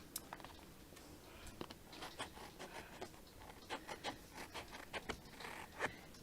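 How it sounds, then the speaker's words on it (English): Quiet, close scissor snips and papery rasps as shimmer card is cut around a die-cut shape, in irregular short bursts with no talking. "And it's so easy to cut through the shimmer card."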